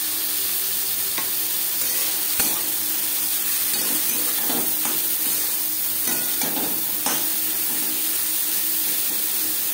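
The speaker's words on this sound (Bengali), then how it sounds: "ডাঁটা হালকা করে ভেজে নেব।" Pumpkin stalks stir-fry in a pan with turmeric and salt, giving a continuous sizzling hiss broken by occasional scrapes and clinks as the stalks are stirred.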